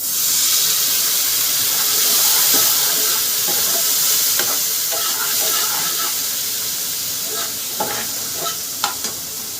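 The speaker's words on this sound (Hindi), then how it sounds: "आज इसमें थोड़ा सा पानी डाल दूंगी।" Water hits tomatoes frying in a pan with coriander and turmeric powder, producing a loud, continuous sizzle and hiss of steam, with a few small pops and scrapes of stirring.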